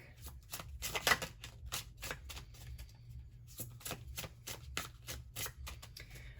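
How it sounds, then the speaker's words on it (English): Rapid papery riffling of a tarot deck being shuffled, several quick bursts with short pauses, close and fairly quiet. "Let me just shuffle up the tarot deck really quick."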